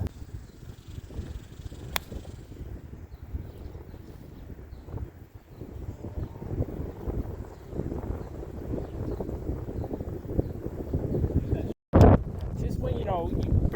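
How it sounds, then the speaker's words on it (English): Strong wind blows across an outdoor golf course, buffeting the microphone in a steady low rumble from start to finish, with one brief sharp knock near the end. "there's a lot of wind coming at me"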